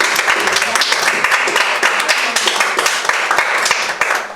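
An audience at a GARTS game show episode claps, a dense patter of hands beating continuously and fairly loud, with voices mixed into the crowd noise.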